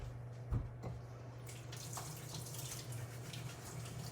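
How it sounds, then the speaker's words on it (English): Hands are washed under a running kitchen tap, a steady gentle stream of water with a brief splash near the start, fairly quiet and close. "Let me wash my hands real quick."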